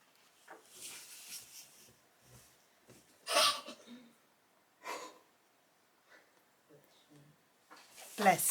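A single sharp sneeze at moderate distance during a quiet indoor cross-stitch session, surrounded by soft breathing, snorts and small rustles.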